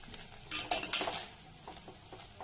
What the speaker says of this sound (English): you have to completely mix it with the jaggery and you have to keep on stirring it constantly so that the lumps does not exist